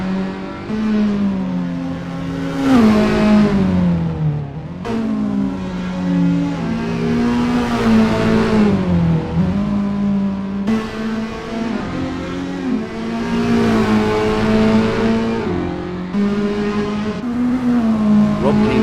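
Toyota S-FR race cars lapping a track in the Assetto Corsa sim, engines droning steadily with rising and falling revs through gear changes, loud and continuous throughout.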